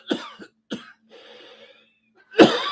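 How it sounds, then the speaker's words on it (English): Two sharp coughs close up, followed by a rough, wheezy breath and then a harsher, louder cough burst. "The coughing,"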